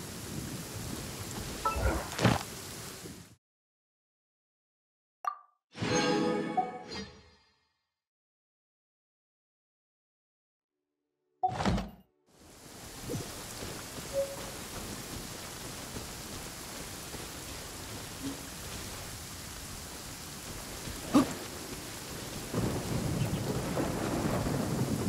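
Rain and thunder in Genshin Impact: a steady hiss of rainfall broken by cracks of thunder and short silent gaps, then heavy rain carrying on alone with another sharp thunder crack near the end.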